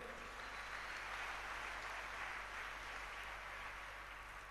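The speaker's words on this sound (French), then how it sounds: "Si vous avez compris, acclamez le Seigneur" A church congregation applauds in a steady, unbroken wash of many hands clapping together, faint and distant across the hall, with no pauses for the whole stretch.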